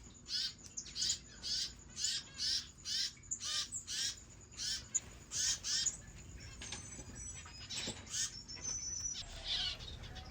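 Zebra finches in an aviary give rapid, repeated nasal calls in a steady series of bursts, fairly close, then a looser mix of chirps and calls over low background noise.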